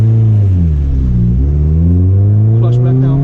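A manual car's engine revs during a hill start, a loud, close rumble that dips and then climbs steadily in pitch as the gas is pressed.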